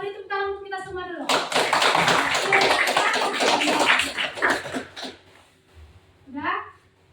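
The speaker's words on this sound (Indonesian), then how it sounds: "Maka beri tepuk tangan untuk kita semua dulu." A classroom of students breaks into loud sustained applause for several seconds, preceded and followed by a teacher speaking.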